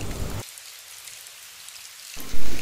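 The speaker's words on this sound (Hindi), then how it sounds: "ओह, बारिश की आवाज़ कितनी अच्छी और आरामदायक होती है ना?" Steady rain pours loud and close as a dense hiss with no voices. The deeper body of the downpour thins out in the middle, then returns heavier toward the end.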